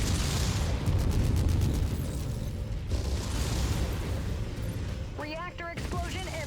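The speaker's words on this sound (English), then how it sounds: "Reactor explosion imminent" In MechWarrior 5, a battlemech's reactor blows in a heavy rumbling explosion amid rapid weapon fire and booms, loud and dense, with a synthetic voice briefly heard near the end.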